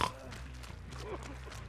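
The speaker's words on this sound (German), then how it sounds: "Ich höre ihn grunzen." Low, faint grunting from the Oni-type killer in the horror game Dead by Daylight, a few rough guttural pulses over a steady low rumble, with talking over it.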